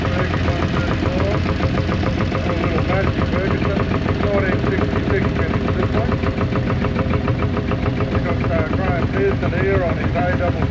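Vintage 1966 Ferguson 134 tractor engine running in a machinery club grand parade, a steady chugging idle with rhythmic knocking, close and loud, while someone talks over it.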